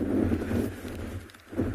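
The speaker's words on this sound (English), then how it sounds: "Quite windy." Gusty wind buffeting the microphone in low, rumbling bursts, rising and falling over a couple of seconds, outdoors at sunrise on a safari with oryx in the distance.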